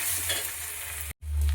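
Fried fish heads are stirred and broken up in a wok while cooking for a moong dal, giving close, steady sizzling and scraping that stops abruptly for a moment, then returns.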